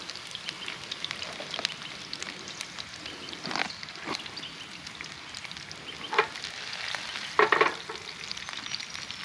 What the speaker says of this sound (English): kaffir lime leaf right through the oil, and basically we're flavouring the oil for the fish to sit in